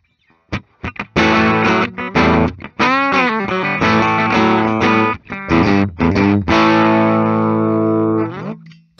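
Schecter C-1 E/A Classic Zebrawood electric guitar played through effects, loud distorted chords with chorus and shimmering sustained notes, strummed and held then ringing out, alone with no talk.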